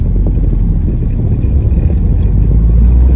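Porsche 944 on the road, heard as a continuous loud low rumble of engine and road noise, steady throughout with no talking.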